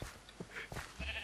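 A few bleats from a Minecraft sheep, soft and short, broken into several separate bursts against faint background with no talking.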